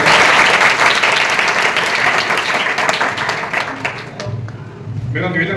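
A crowd of schoolchildren claps loudly and continuously at a school ceremony honouring a mayor; the dense applause fades after about four seconds and a voice begins speaking.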